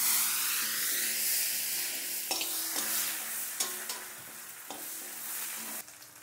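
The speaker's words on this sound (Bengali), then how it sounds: "এটা একটু ভেজে নেব।" Four or five pieces of chui jhal fry in hot oil in a pan for a chicken biryani, giving a steady close sizzle with a few sharp clinks of stirring, and no voices.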